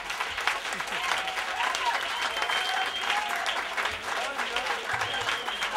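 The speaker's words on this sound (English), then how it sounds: "Let's give Pete another round of applause." A crowd applauds a performer named Pete after his set, continuous clapping at moderate level with voices and cheering mixed in underneath.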